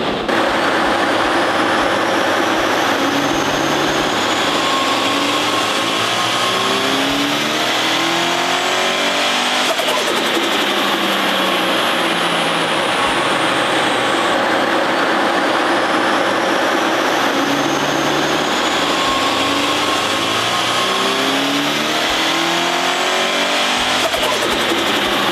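A turbocharged Toyota 86 running E85 on 8 psi of boost makes power runs on a dyno, loud and close, with the engine repeatedly revving up through sweeping rising pitches, abrupt drops between pulls, then climbing again.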